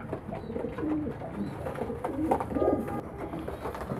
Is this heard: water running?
no